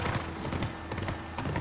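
Horse hooves clip-clop in The Last of Us, a steady run of close, rhythmic thuds under a low game backdrop with brief voices.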